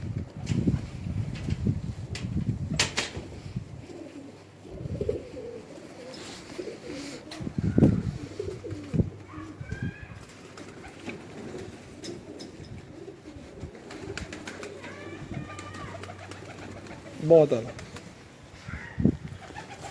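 Pigeons cooing softly in low repeated calls among a flock, with occasional wing flutters, under nearby talking voices and handling noise.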